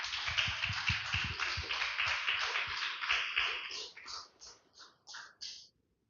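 A church congregation claps, dense applause that thins into a few scattered, separate claps before fading to silence.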